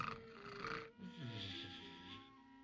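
A king snores inside a coach in a children's story, with a wheezy, drawn-out breath, a short pause and then a longer rasping snore, heard close and fairly quiet with no talk.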